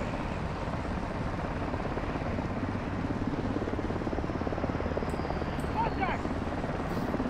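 A helicopter in Call of Duty Modern Warfare 2 thrums loudly and continuously, its rotor noise filling the scene, with a few faint game effects near the end.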